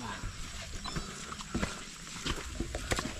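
Hooves of a horse on a farm, clip-clopping as a quick, uneven run of sharp knocks that sit close and fairly faint, mixed with soft rustling and background noise.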